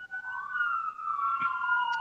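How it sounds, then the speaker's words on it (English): Emergency vehicle sirens, including a fire truck, wail steadily from a moderate distance, a sustained tone drifting slowly in pitch, fairly faint, with a few small background noises. "Somebody's got a fire truck going. I do. There's sirens in the area."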